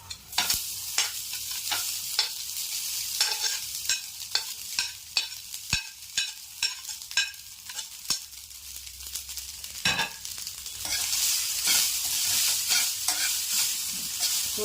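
Egg fried rice with salt and avakai being stir-fried in a pan: a loud run of sharp, rhythmic spatula scrapes and clacks over a steady sizzle, ending in a denser, hissier frying wash, with no talking.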